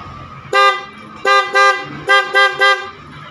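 Horn on a Yamaha R15 v1 motorcycle, freshly wired in, honks five times in uneven short bursts: one single toot, a pair, then a quick triple, loud and close with nothing else around.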